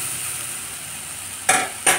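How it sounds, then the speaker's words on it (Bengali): Spice paste with a pinch of turmeric frying in a pan, a constant soft sizzle broken near the end by two short bursts of stirring. "দিয়ে আমি বেটে রাখা মশলাটা দিয়ে মশলাটা ভালো করে কষিয়ে নেব।"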